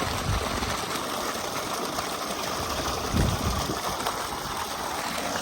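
Steady broadband motor drone of an electric water pump running on a farm field for irrigation, constant and fairly loud with a brief bump in the middle, no talk.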